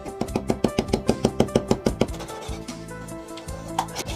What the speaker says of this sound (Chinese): 先把这个肚头切出来。 这个部位是最脆的，很适合拿来生炒。 给它打上花刀